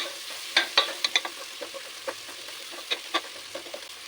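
Onion and curry leaves frying in a pan for a bitter gourd dish, a soft steady sizzle broken by scattered sharp pops and light crackles, close and fairly quiet, with no voices.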